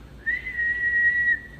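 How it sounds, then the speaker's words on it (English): One sustained whistle note held for about a second by a fitness trainer, close and clear against a quiet background. "Sometimes he uses a whistle."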